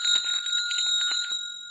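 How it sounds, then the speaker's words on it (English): A hand bell rung to summon a servant gives a bright, ringing tone with several quick strikes that sustain and slowly fade, heard alone with no voices. "He rang the bell"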